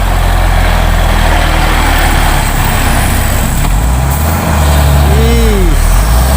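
A heavy Hino trailer truck's engine rumbles low and loud up close, with a brief rising-and-falling whine near the end, while a voice talks over it.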